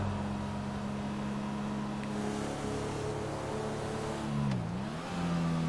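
A truck engine in GTA 5 roleplay revs steadily, its low harmonic drone holding near and loud, then dipping and climbing again as the driver works the throttle toward the end.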